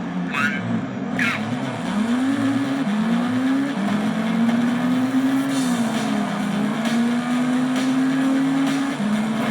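Race car engine in a racing video game played on a restored Acer FM1 APU system, a steady droning whine that rises and shifts pitch through gear changes, loud and continuous, with short bursts of other game noise near the start.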